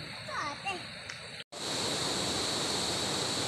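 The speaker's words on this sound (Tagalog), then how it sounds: "Ayan po yung ilog na sinasabi ko sa inyo, napakaganda po, ang lakas po ng agos." Steady loud rushing water from a fast-flowing river in the Philippines, with a voice faintly heard early on before a brief cut.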